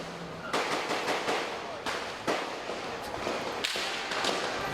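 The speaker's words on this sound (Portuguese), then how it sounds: "Os agentes foram recebidos a tiros por criminosos." Gunfire during a police raid in the Jacarezinho favela, a rapid irregular burst of sharp cracks and thuds over a dense, noisy background, loud and continuous throughout.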